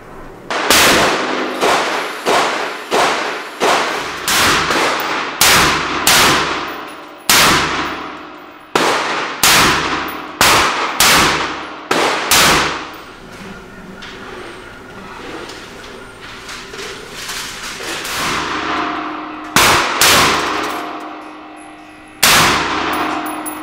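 Sharp, loud gunshots from an Anderson Manufacturing AR-15 rifle with a 16-inch barrel fire at an outdoor gun range, some in quick clusters and others spaced apart, each ringing with a metallic report.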